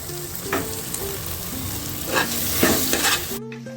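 A masala base for mutton biryani, seasoned with salt and cumin powder, sizzles quietly in a pan while a spoon stirs and scrapes it in several close, brisk bursts, ending abruptly.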